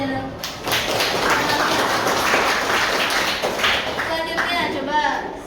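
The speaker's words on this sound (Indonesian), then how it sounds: "Tepuk tangan untuk jajaran." A classroom of eighth-grade students claps for a class group, a burst of scattered hand claps and taps that swells after a brief pause and continues steadily, with voices mixed in.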